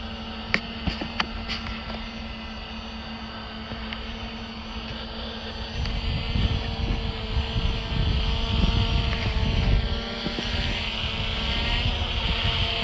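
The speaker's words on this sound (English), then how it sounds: "Drone will trace your target from a parallel perspective." A Fimi X8 SE drone flies overhead, its steady motor whine holding throughout and growing louder and closer partway through, with wind noise and no talking.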